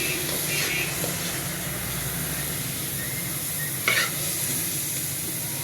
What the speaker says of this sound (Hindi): ये देखें अच्छी तरह भून चुका है इसने। ये देखें घी भी छोड़ दिया है।